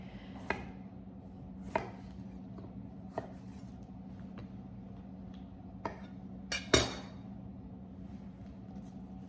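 A knife slices a lime into thin slices on a board for summer cocktails, making a series of separate crisp chopping taps spaced a second or more apart. The sharpest and loudest cut comes near the end, over a low steady hum.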